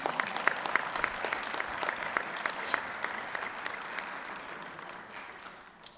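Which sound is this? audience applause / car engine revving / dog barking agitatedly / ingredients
audience applause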